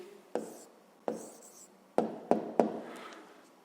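Pen or pencil writing a maths answer by hand on paper, in a few short scratchy strokes with sharp onsets, close and clear with no talking.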